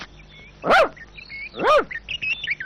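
A dog in a Tamil comedy film scene gives two loud barks about a second apart, close and clear over a faint background hum.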